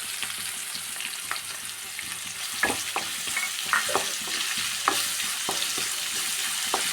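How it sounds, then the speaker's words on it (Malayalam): Sliced onion and cumin seeds fry in a pan with a steady, close hiss and sizzle, broken by occasional clicks and scrapes from stirring. "നമ്മൾ വെച്ച സവാളയൊക്കെ നന്നായിട്ട് ഫ്രൈ ആയി തുടങ്ങി"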